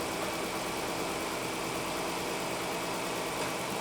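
A Dodge Caravan engine idles roughly with a misfire, a steady, dense rumble close by that drones on without a break.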